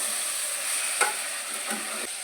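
Chicken pieces sizzle steadily in a hot pan, with a few soft scraping stirs of a spoon breaking through the continuous frying hiss.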